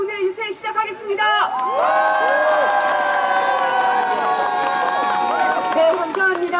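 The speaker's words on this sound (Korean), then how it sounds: "여러분의 힘찬 함성과 함께" A large crowd at an outdoor presidential campaign rally near Gwanghwamun Station in Seoul breaks into loud, sustained cheering and shouting. The roar swells after a quieter start and holds steady to the end.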